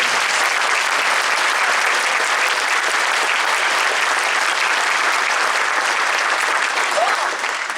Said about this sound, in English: Please give their band directors a round of applause.